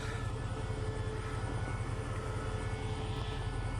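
A diesel passenger train, the ordinary service 211 in Thailand, passes with a deep, continuous engine rumble droning close by, heavy and steady, with no voices over it.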